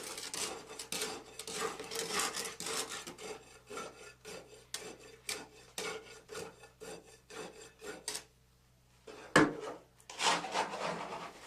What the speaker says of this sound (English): Rod the layer 25 times, making sure to penetrate into the first layer approximately 1 inch.